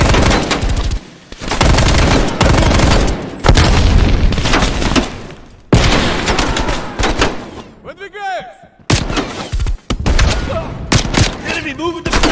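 Heavy booms and dense automatic gunfire from the video game Call of Duty Black Ops Cold War, loud and near, with a grenade blast amid the shooting, brief drop-outs between bursts and voices mixed in.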